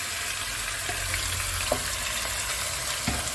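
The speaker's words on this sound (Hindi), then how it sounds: "ये 1 किलो के करीब कीमा है जो इसमें मैं डाल दूँ" Frying and sizzling in a pan, about a kilo of minced meat tipped onto onions that have been frying, a steady close hiss with a few faint clinks and stirring knocks.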